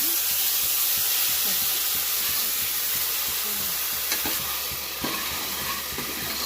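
Ginger garlic paste frying in hot oil in a pressure cooker: a dense, continuous hiss and sizzle with faint scraping of a stirring spoon, close and steady throughout.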